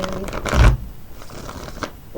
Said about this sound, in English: we're going to shuffle these ones and cut them the same way.